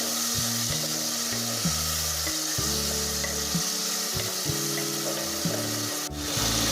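A spice mix being sautéed in a pan while cooking a yogurt-based dish in a Malayalam home kitchen, giving a steady close sizzle and frying hiss with repeated scraping and stirring strokes throughout and no talk.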